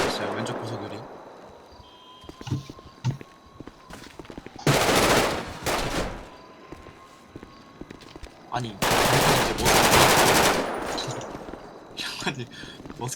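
Automatic gunfire in a Korean role-play game server, long bursts of rapid shots with shorter volleys between, loud and close, while players talk over it.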